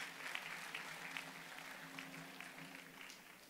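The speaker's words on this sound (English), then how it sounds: "Give him a round of applause." An audience at a university graduation ceremony applauds steadily throughout, a soft, even patter of many hands clapping at a distance.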